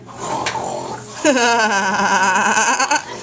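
A person imitating a pig with the voice, a loud, close, strained squealing grunt held for about two seconds after some brief talk.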